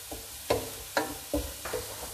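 Crushed shallots being stirred and sautéed in a pan for Kerala-style beef poriyal, with four distinct scraping spoon strokes against the pan over a soft, steady sizzle.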